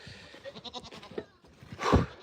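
Goats bleat on a homestead farm during hoof trimming, with a busy patter of movement and handling followed by one loud, close bleat near the end.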